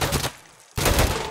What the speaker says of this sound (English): He's getting shot at